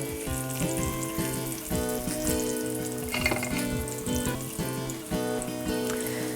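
Squash flatbread fries in a generous amount of hot oil in a pan, with a loud, continuous close sizzle and crackle and occasional bursts of spattering.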